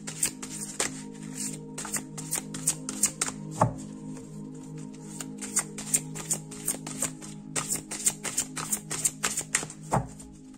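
Oracle cards are shuffled by hand in quick bursts of crisp riffling clicks and slaps, close and clear, with short pauses between bursts and a faint hum underneath.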